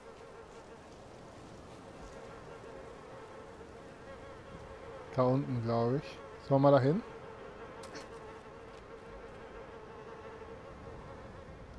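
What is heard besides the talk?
buzzing bees in the video game Little Nightmares II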